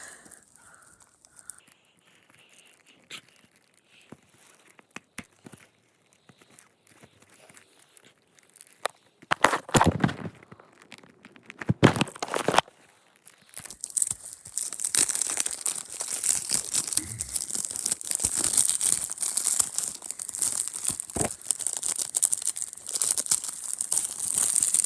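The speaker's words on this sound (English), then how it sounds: "Let's remove the plastic wrap." Plastic wrap is peeled and torn off a Nintendo Switch game case, starting as scattered faint handling and clicks, then bursts of loud tearing, followed by sustained close crinkling of the plastic film.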